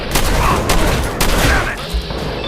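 Gunfire in the video game Fallout 4, a loud close burst of rapid repeated shots with booming impacts over about two seconds, easing off at the end.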